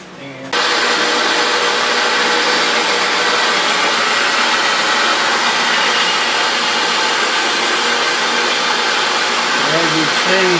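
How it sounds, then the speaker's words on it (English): A knife blade is pressed against a bench grinder in a knifemaker's shop: a loud, continuous abrasive whir and hiss that starts abruptly and holds steady throughout, close up, with no talk over it. "basically I just take them and go to the grinder over here"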